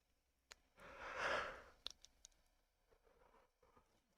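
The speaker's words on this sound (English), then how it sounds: "And I wish I could stop yawning." A person yawns close to the microphone, a single long breathy exhale that swells and fades over about a second, followed by faint clicks and soft rustling in a quiet room.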